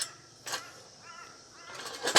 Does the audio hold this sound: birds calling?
yes